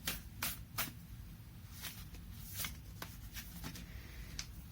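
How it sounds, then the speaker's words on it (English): A deck of oracle cards from the Sacred Traveler set is shuffled by hand, giving quiet, close riffling and repeated light slaps and flicks over a few seconds. "let me pull up a oracle card for you to end this from the Sacred Traveler"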